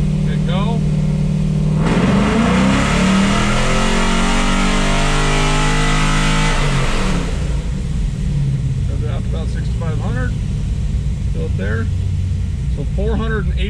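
A cammed LS3 V8 in a fifth-generation Camaro with headers and a cold air intake roars loudly as it revs up on a dyno, then drops off into a rumbling idle while people talk over it.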